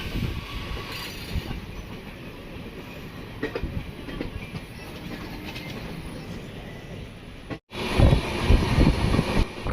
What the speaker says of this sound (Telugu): ఇది సికింద్రాబాద్ నుంచి వచ్చే ట్రైన్ అండి.